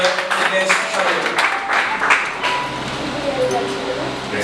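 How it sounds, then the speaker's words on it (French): Wedding guests in a church applaud the pastor, steady overlapping clapping through the whole stretch, with voices talking underneath and a few sharp tones cutting through. "Je vous prie de bien vouloir d'applaudir une fois de plus notre pasteur Inès Chalet."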